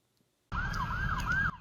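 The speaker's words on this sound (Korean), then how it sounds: "한적한 마을이 사이렌 소리로 뒤덮였습니다" A police siren wails steadily over a small town, its pitch rising and falling in repeated sweeps, starting abruptly after a moment of quiet and cutting off just as suddenly.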